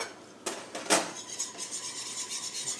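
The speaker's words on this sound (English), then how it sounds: "The secret here, just keep stirring it." A spoon scrapes and rubs steadily around a pot as a flour-thickened short rib sauce is stirred, close and continuous with a couple of sharper knocks, no talking.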